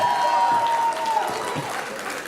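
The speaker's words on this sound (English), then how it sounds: "give yourselves a round of applause" A conference crowd at Team Vineyard Conference 2018 applauds in a dense, sustained wash of clapping and cheering, with a voice talking over it throughout.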